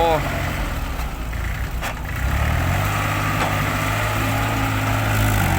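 A heavy Kubota tractor engine rumbles loudly and steadily while pushing mud at the bottom of an old pond, its low drone rising slightly as it works, with brief clanks over the noise.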